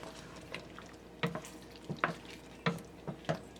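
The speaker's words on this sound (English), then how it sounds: "Alright, so we got this to a boil." Rasta pasta sauce at a rolling boil in a pot, bubbling and plopping close by in irregular bursts over a soft steady simmer.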